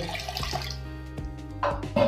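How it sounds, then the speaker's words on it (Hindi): About 100 ml of water splashes into a hot pan of carrot and pea curry over a low gas flame, a steady pour with louder gushes toward the end. "100 एम पानी डाल देंगे"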